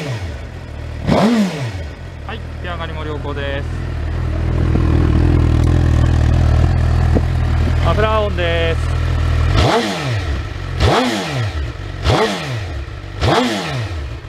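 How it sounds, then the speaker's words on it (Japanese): A Suzuki GSX-R1000 sport bike with a Yoshimura titanium dual exhaust cranks and fires up, then settles into a rumbling idle before a series of sharp, loud revs spaced about a second apart, close by. "それではエンジン始動していきます。"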